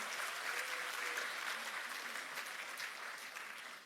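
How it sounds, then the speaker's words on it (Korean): Audience applause for former president Kim Dae-jung at a party anniversary ceremony, a steady dense wash of many clapping hands held at moderate level throughout and easing slightly at the end. "김대중 전 대통령님께 큰 박수 부탁드립니다."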